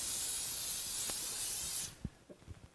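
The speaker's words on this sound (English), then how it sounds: "I'm going to spray the inside of that with a little bit of tin release." A steady, close aerosol spray of tin release hisses for about two seconds into a metal bowl, then cuts off, followed by a few light knocks and handling sounds.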